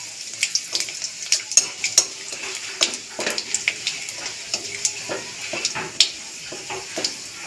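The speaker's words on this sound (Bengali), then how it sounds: "ফোড়নটা একটু ভেজে নেব।" Dried red chillies and panch phoron spices fry in hot oil in a pan, with a steady crackling sizzle and frequent sharp pops and scraping stirs of a utensil against the pan, close and fairly clear with no talk.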